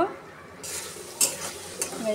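Loitta dried fish frying and being stirred in a pan as its cooking water boils off: a continuous close sizzle broken by sharp scraping strokes of a spatula against the metal.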